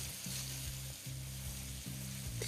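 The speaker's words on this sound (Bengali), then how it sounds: "আর পেঁয়াজটাকে এখানে কিন্তু আপনাদের একটু লাল লাল করেই ভেজে নিতে হবে।" Three medium onions, thinly sliced, fry on high flame, giving a continuous bright sizzle with a low hum underneath, steady and close, no voices.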